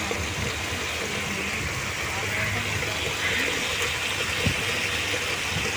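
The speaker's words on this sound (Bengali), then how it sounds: "এই জল দিয়ে দিলাম অল্প করে পরিমাণ মতো" A small amount of water poured into a pan of cooking papaya, a steady gushing, splashing pour that runs throughout, with faint background voices.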